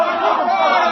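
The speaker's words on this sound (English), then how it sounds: "They're cheering for the bull." A bullfight crowd in a radio drama yells and cheers loudly, a dense continuous roar of many voices throughout.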